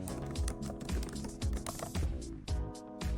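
Quick, uneven bursts of keystrokes on a computer keyboard as a name is typed in, close and clear with short pauses between clusters of taps.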